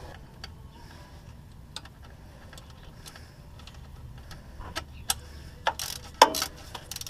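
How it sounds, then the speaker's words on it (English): A ratchet or wrench clicks sparsely and faintly while a bracket is bolted back in underneath a Dodge Sprinter 2500 during an alternator change, growing a little louder and busier toward the end. "and bolt that bracket back in."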